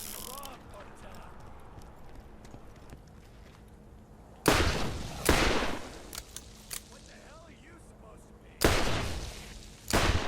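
Gunfire in the video game Borderlands aimed at the pieces of a fan: a few loud, sharp shot bursts rising out of quieter game ambience with soft clip-clop-like mechanical ticks between them.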